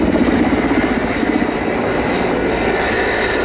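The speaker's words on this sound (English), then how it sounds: "including Mi-171s like this, have been built" A Czech Air Force Mil Mi-17 (Mi-171) helicopter with Klimov TV3 turboshaft engines roars loudly and steadily during an air show display at Duxford, with a dense, continuous rotor and engine drone and no speech.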